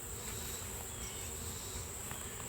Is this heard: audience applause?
no